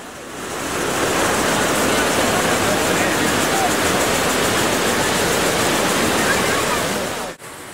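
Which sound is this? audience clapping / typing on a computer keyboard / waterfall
waterfall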